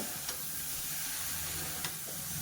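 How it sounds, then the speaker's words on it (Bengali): Prawns frying in a pan with salt and turmeric, a soft steady sizzle and hiss throughout with a couple of faint clicks of stirring, close and quiet, no voices. "চিংড়ি মাছটা একটু ভেজে নেব"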